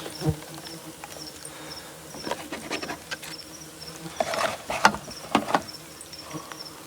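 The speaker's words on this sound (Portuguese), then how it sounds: "Abelhas novas, uma colônia bem forte já, tá?" A strong colony of young Canudo Cara Amarela stingless bees hums and buzzes close by in a low, steady drone, with scattered clicks and brief rustling bursts from handling the nest.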